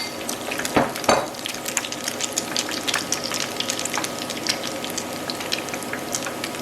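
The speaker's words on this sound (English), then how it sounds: "it didn't sizzle as the first did" Fish nuggets sizzle and crackle steadily in hot frying oil, with a couple of louder pops and splashes near the start, close by.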